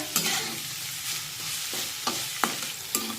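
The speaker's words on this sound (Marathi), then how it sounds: "आता एकसारखं याला हलवून घेऊया आणि छान मऊ होईपर्यंत शिजून घेऊया" Stale chapati chivda is stirred in a hot pan, a steady sizzle running under a few sharp scrapes of the spoon against the metal, close and moderately loud.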